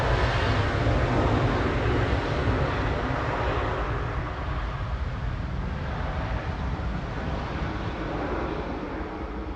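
A Boeing 737-800 jet departs from Manchester Airport for Olbia, its engines giving a loud, continuous low rumble and roar that stays fairly even and fades slightly toward the end.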